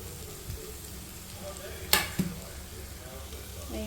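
Soft, steady sizzle of masala frying in a pan as boiled mattikayalu (broad beans) are added, with a sharp clatter of a spoon against the pan and quiet stirring in the background.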